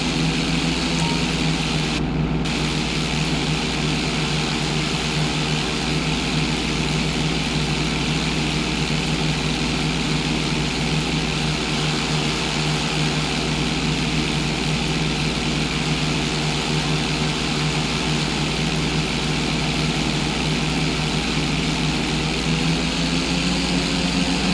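Propeller plane in GTA San Andreas during a pilot license test, a loud continuous engine drone with a steady buzzing tone that holds level for the whole stretch, no speech.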